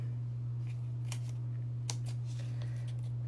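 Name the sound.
scissors cutting card for handmade birthday card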